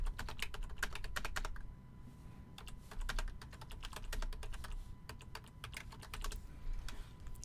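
Quick typing on a computer keyboard, rapid bursts of clicking keystrokes with short pauses between words, close and fairly quiet, no talking.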